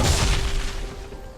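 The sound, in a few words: turret destroyed in video game League of Legends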